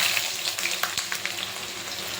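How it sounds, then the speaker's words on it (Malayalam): Chopped ginger and garlic sizzle and crackle in hot oil for mango pickle, a close, steady frying hiss with small pops and a faint stir, with no voices. "ഇതിൻ്റെ അകത്തേക്ക് കുറച്ച് ഇഞ്ചി അരിഞ്ഞത്, വെളുത്തുള്ളി അരിഞ്ഞത്, ഇത് നമുക്ക് അതിൻ്റെ അകത്തേക്ക് ഇട്ട് കൊടുക്കാം"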